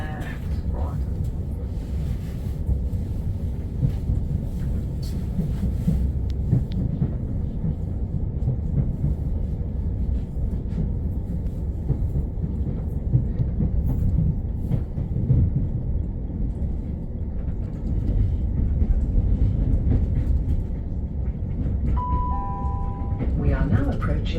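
A Southern passenger train rolls into Brighton, heard from on board as a steady low rumble and rattle of the carriage, with onboard announcements spoken over it and a short electronic chime near the end.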